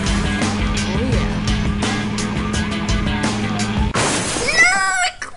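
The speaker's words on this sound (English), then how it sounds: "No, I crashed in the back of the car." A car crash in the Highway Racer driving game: steady engine drone, then a sudden loud smash with shattering debris near the end, followed by ringing game effects.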